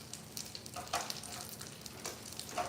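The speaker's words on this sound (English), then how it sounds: "I love the sizzle." Food sizzles quietly in a frying pan, a soft crackling hiss with occasional stirring clinks.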